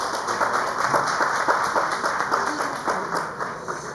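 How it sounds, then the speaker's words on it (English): Applause from the audience at an official event in Sindh attended by the Chief Minister, a dense, steady patter of many hands clapping at once, fairly loud and continuous throughout with no speech over it. "A big round of applause please."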